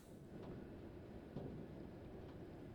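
A train in the video game Steamdolls: Order of Chaos rumbles steadily at low volume, a continuous rolling drone with faint periodic clacks and no voices.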